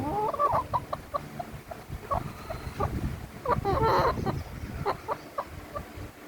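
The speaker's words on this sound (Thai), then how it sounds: "เป็นไก่ทำไมไม่ไปวิ่งเล่น" Chickens cluck repeatedly in short bursts, with a busier, louder stretch of clucking midway through, close by and without talk.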